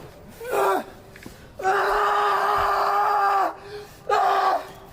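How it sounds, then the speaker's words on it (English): Professional wrestler at a wrestling show screaming in agony from an injured hand: three loud, strained, sustained cries, a short one, then a long held wail, then another short one, close up over faint background noise. "Jaxson screaming at the top of his lungs, the amount of agony, the amount of pain that he is in."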